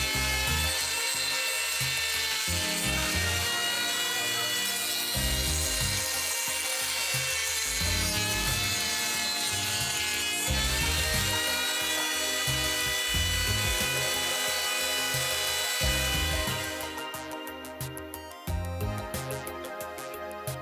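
A rotary tool cutting along a line in the trim of an ASUS GTX 650 graphics card, a loud, continuous high-pitched grinding whine with rhythmic dips in load as the cut advances.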